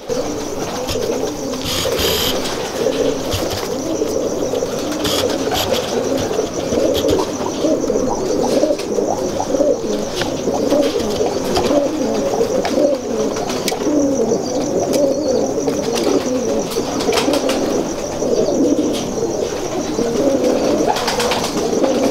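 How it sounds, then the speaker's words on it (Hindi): Steady soft cooing from several Firozpuri pigeons, repeated throaty coos overlapping continuously at close range, with faint rustling in the background. "ये फिरोजपुरी कबूतर दिखा दो। फिरोजपुरी कबूतर, माशाल्लाह, दिखाइए जी।"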